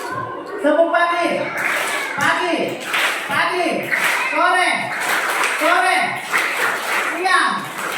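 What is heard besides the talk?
children clapping along to a clapping game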